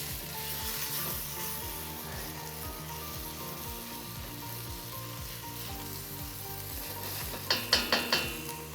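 Garlic, chili paste and tomato paste sizzle steadily in a hot pan while being stirred for a Turkish Hünkar Beğendi sauce, a close, continuous frying hiss ending in a few sharp scraping taps, with no talk.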